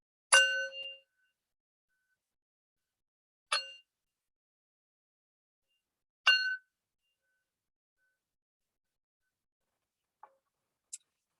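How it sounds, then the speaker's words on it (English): A bell rings clearly three times, each strike ringing out and fading, separated by long silences, with a couple of faint clicks near the end. "let's listen to the mindfulness bell again"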